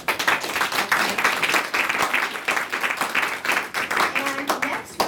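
Audience applause for panelist Jonathan Trent at a TED Global Talk event: dense, steady clapping from a crowd runs for about five seconds, with talk faintly mixed in.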